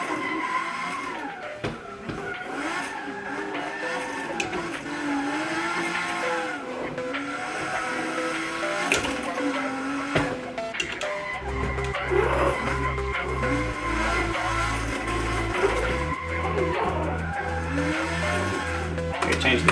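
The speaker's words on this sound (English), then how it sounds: "This vehicle I'm drifting is a SC300 convertible drift car." A Toyota SC300 convertible drift car engine in a racing sim video game revs and whines continuously as it drifts, with tires squealing and gear changes, loud and close throughout.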